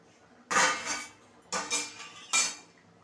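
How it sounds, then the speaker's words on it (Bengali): A lid is lifted off a plate of prawns cooking for jackfruit-prawn curry, giving three sharp metallic clanks and scrapes about a second apart, close and fairly loud with no talk. "5 মিনিট পর ঢাকাটা খুলে দিলাম।"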